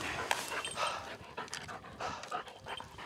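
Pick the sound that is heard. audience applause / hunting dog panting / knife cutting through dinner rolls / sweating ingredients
hunting dog panting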